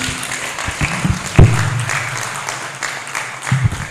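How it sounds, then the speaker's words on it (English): Applause at a journalism ethics conference keeps going as a speaker returns to his seat, a rippling clap with some louder close claps and low voices underneath. "Please let's continue to give him a round of applause till he gets back to his seat."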